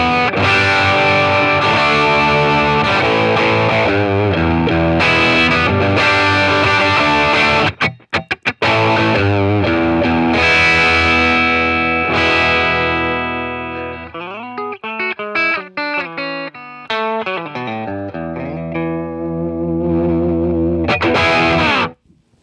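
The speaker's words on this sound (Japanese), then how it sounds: "その名の通り、いい感じのクランチの音が鳴ってくれます" Crunchy overdriven electric guitar through a Line 6 Catalyst amp in crunch mode, playing chords and riffs, loud and upfront, with a brief pause midway before single-note lines ring out.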